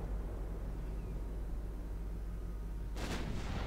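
A torpedo detonation in the naval combat game Ultimate Admiral Dreadnoughts sounds as a sudden broadband burst near the end, rising over a steady low rumble of ship and sea ambience.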